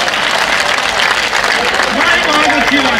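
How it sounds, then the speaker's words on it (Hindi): An audience at a live comedy poetry stage show breaks into loud, close applause, a thick clatter of clapping with a voice rising over it near the end. "एक बार ताली बजाइएगा।"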